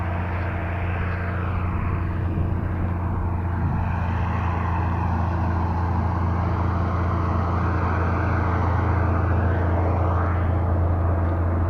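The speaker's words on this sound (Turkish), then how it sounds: "3 silindirli bir motor var. 1966 model." A 1966 ER 3900 three-cylinder tractor engine runs steadily at close range, a loud continuous low drone with a strong rumbling hum that holds unchanged throughout, with no voices.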